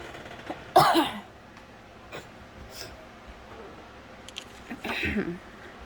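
Two coughs from a person with a cold, one near the start and another toward the end, with a few faint throat noises between them in a quiet room.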